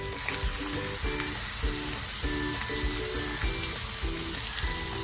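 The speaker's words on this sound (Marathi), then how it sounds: "थोडंसं तेल टाकते लसूण पेचून घेतली होती ना ती टाकते" Garlic tossed into a little hot oil sizzles and spits steadily at close range, a dense continuous fry with small crackles, while vegetables for a Maharashtrian ghevda (flat bean) bhaji are being cooked.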